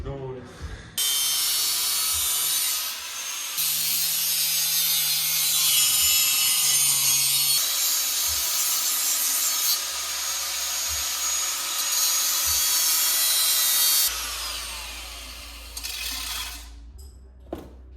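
An angle grinder screams loudly and close up against a stainless steel drift car part, a harsh continuous high grind that dips and surges in bursts before cutting off, with people talking around it.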